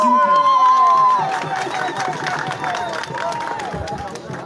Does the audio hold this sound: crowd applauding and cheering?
yes